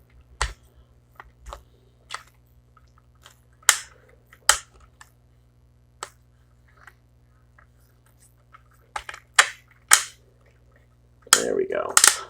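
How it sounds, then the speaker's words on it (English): Knee joint of a Masterpiece Beast Wars Megatron action figure clicking through its ratchet positions, giving sharp, scattered plastic clicks close to the mic, with a steady low hum underneath and a louder rustle of handling at the end. "they will, however, click a little bit at this knee joint"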